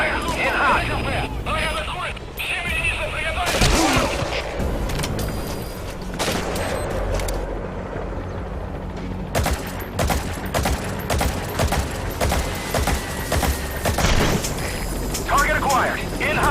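Sustained cover-fire gunfire in Metal Gear Solid V, a dense rattle of shots and booms running throughout, loud and continuous, with radio-style voices talking over the battle.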